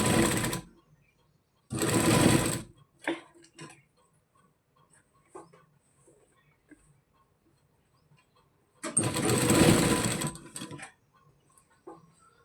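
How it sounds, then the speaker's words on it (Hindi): A sewing machine stitching the collar of a baby frock, running in three short bursts of rapid mechanical whirring separated by quiet pauses with faint clicks and handling sounds. "छोड़ते हुए हम इसको पूरे में सिलाई कर लेंगे"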